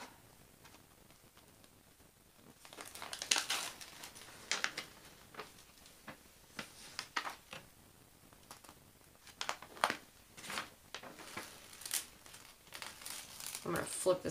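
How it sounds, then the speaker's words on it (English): Cover paper is ripped off a diamond painting kit in a string of sharp, crinkly tearing bursts, close and irregular, separated by short quiet gaps. "I'm going to flip this cover paper around so it rips on the outside"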